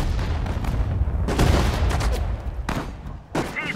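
Dense gunfire from a Sudden Strike 4 battle on the Eastern Front during Operation Barbarossa: loud overlapping shots and booming bursts in rapid succession, a brief lull, then more sharp blasts.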